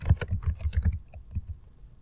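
Rapid keystrokes on a computer keyboard while entering spreadsheet header text, a quick burst of clicks in the first second that thins to a few scattered taps, close and fairly quiet with no talking.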